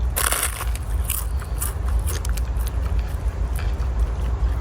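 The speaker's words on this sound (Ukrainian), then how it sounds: "Зараз буде перший кусь, це буде куча лаваша." Biting into a lavash burrito gives close, crisp crunching and tearing, repeated crackles over a continuous chewing rustle.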